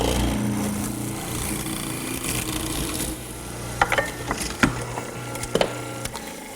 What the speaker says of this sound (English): as the chisel passes through into the mortise I've already made